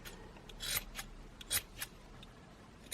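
Scissors snip through crochet yarn ends in several quick, close cuts, with faint rubbing and handling noises between snips and no talking.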